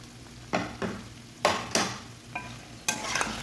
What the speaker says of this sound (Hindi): बाकी इसमें शिमला मिर्च शामिल करेंगे